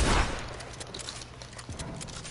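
Gunfire in a video game, one loud shot at the start followed by fainter scattered reports and game noise, no talk.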